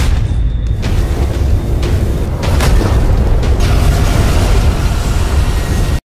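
A loud, deep animated lion cannon blast with a heavy booming rumble that rolls on for several seconds before cutting off abruptly.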